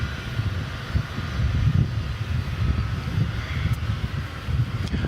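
Airliner engines roaring steadily at DFW Airport as a plane bound for Istanbul taxis toward takeoff at night, a loud, continuous broadband rumble without speech.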